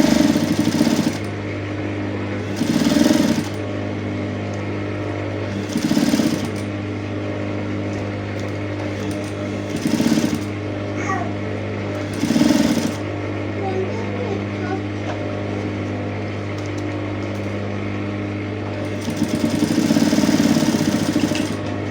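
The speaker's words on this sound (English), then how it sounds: "So I'm on the machine now. I'm just going to sew it straight." A sewing machine runs a straight line of stitching along a neck placket, giving a steady mechanical hum with a few louder bursts as it speeds up and slows.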